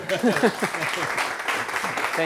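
Audience clapping hands together after a technical presentation on groundwater protection in shale gas development, a broad dense patter of applause mixed with voices and a laugh near the front.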